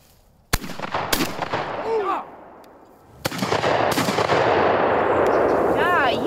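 Four sharp gunshots crack outdoors during family shooting, in two spaced pairs with echoing tails and a brief lull between them; some high tonal chirps sound in the background.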